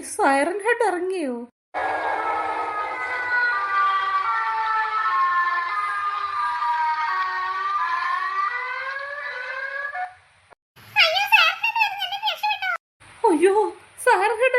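Siren Head creature in an animated story letting out a long, loud, wavering siren wail lasting several seconds, with voices talking briefly before and after it.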